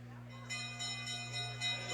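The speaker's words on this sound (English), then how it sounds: "There's the bell for Hatcham and Anglin." A last-lap bell rings at a short track speed skating race, sounding as a rapid series of bright metallic strokes over a steady arena hum.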